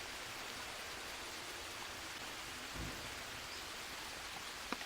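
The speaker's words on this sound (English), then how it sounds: "this will show that, like this, that it's raining still inside" Steady rain falls in the jungle survival game Green Hell, heard from inside a mud-floored shelter with a roof, a faint even hiss of drops that holds constant throughout with no talk.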